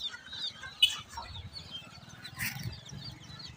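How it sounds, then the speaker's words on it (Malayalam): Colourful chickens cluck softly at a distance in a quiet yard, faint scattered calls and a brief flutter over low background hum. "കളർ കോഴികളൊക്കെ ഉണ്ട്"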